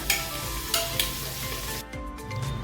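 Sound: shrimp rice ingredients sautéing in a pan on medium flame

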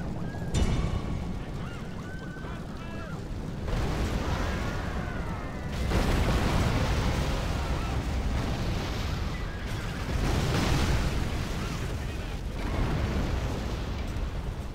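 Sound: artillery shots hitting a wall, video game

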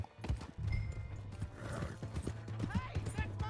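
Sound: horse hooves in video game Red Dead Redemption 2

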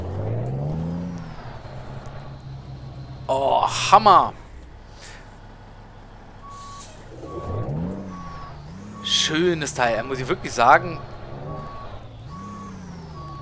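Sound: Kenworth T800 truck in Euro Truck Simulator 2 video game

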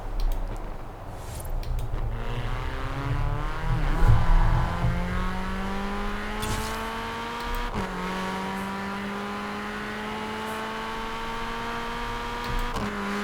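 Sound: Mini Cooper JCW Countryman exhaust crackling, Forza Horizon 4 video game

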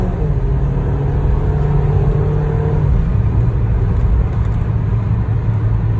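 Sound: car engine revving with modified exhaust

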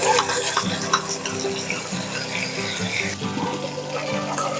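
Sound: rinsing with a little water while cooking fish curry

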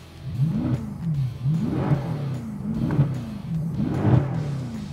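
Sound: 2014 Mercedes C63 Fi-Exhaust in race mode

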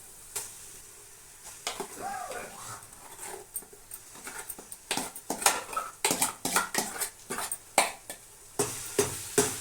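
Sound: fried onion paste added to a pan and stirred

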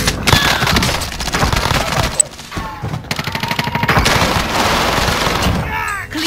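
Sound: gunfire in the video game Warzone

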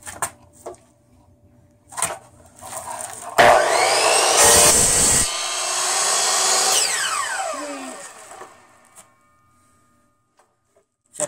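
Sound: saw trimming a pintail longboard deck

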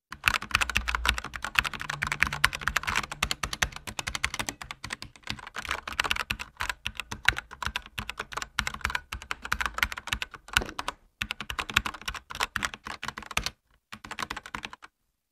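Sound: red switch mechanical keyboard typing

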